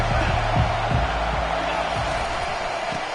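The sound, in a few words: football stadium crowd cheering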